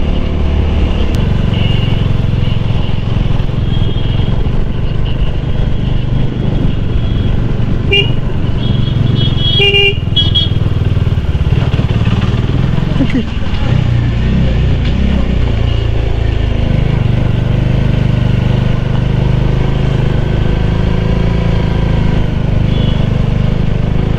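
A vehicle climbs a steep mountain road between Sevok and Peshok near Siliguri in first gear. Its engine gives a loud, steady, continuous drone that holds throughout, with no pauses.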